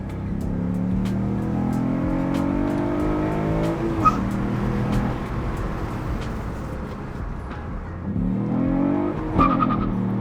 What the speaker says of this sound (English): The car kind of almost sounds a little different too right now.